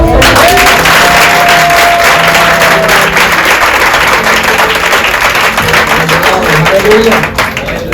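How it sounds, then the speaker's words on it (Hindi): Congregation applauding during a church prayer service, a sustained burst of clapping from the crowd that carries on loudly and fades slightly toward the end. "ये किसके लिए ताली बजे के समझ में नहीं आया?"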